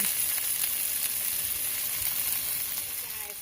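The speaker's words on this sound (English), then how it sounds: "You probably can hear the sizzle." Steady, loud sizzling of chicken breast browning in a hot pan, a continuous crackling hiss with no talking.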